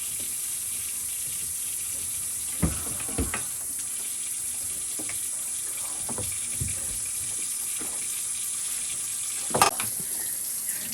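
Steady hiss of running water from a kitchen faucet's pull-out sprayer, faint and even, broken by a few sharp clunks and knocks.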